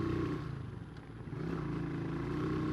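A motorcycle engine rides up a village road in Yemen, a loud, steady droning hum that dips briefly partway through and then holds close and continuous.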